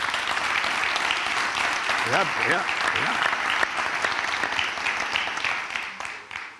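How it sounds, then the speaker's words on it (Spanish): Strong, sustained applause from a studio audience greeting a guest during a Spanish interview, dense clapping throughout that fades slightly at the end, with a brief voice speaking over it. "un fuerte aplauso para él, por favor"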